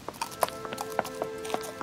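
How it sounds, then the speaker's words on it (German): Cab horse's hooves in a light trot, an even clip-clop rhythm of close, clear hoofbeats on a street, staged as an audio drama effect. "ließ zum Abschied die Peitsche knallen, worauf der brave Droschkengaul wiehernd in einen leichten Trab verfiel."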